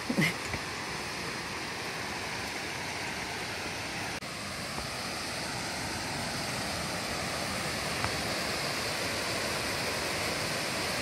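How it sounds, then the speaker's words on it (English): A small waterfall at Virgin Falls, Tennessee, running at high water, pours as a steady, dense, full roar that holds unbroken and close throughout, with no voices. "We'll just go check out this little waterfall over here"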